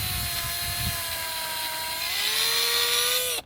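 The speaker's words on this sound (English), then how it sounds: "then we're going to drill the holes" A power drill whines steadily while drilling holes to mount an inline figure skating frame, its pitch climbing slightly as it spins up, then cuts off abruptly at the end.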